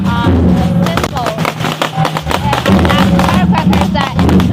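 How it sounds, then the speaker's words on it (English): Firecrackers burst at a Chinese Spring Festival parade, a dense crackling barrage of sharp pops that carries on throughout, with loud crowd noise around it. "firecrackers that actually used to expel evilness"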